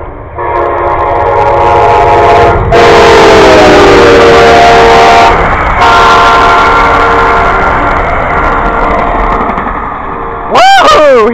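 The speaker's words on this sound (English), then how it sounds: "Alrighty, YouTube, here comes the train." An Amtrak passenger train speeds past very close and loud, sounding long blasts of its horn over a heavy rolling roar of wheels on rail. The horn pitch bends downward as it goes by.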